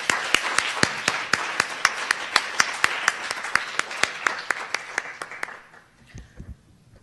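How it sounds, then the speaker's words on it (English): Story slam audience applauding the performers, sparse clapping with a few sharp, close claps standing out in a steady rhythm over a thinner crowd, tapering off near the end into quiet room sound. "So another round of applause for all of our performers,"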